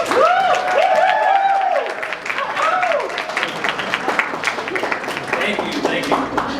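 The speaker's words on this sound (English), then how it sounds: "Please welcome him with applause." An audience at a 2017 Korea Legacy Gala keynote applauds to welcome a speaker, with a voice heard over the opening moments before the clapping carries on as a dense, steady patter.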